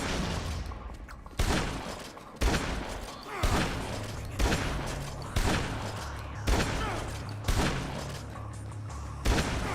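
Repeated loud gunfire bursts in Dead Rising 2, sharp cracks landing roughly every second or so over a dense, noisy backdrop of combat clatter.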